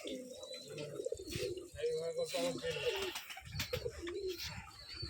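Rajshahi Giribaj pigeons coo in soft, repeated bursts close by, with a person talking and calling among them.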